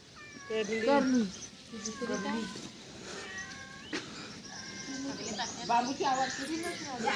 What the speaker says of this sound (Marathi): आणि बघा इथं ही मांजर बसली आमची